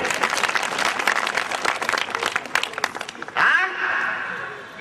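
An audience at a Lingayat religious discourse on Basava's teachings claps in dense, rapid, crackling applause that runs for several seconds before giving way to a speaking voice.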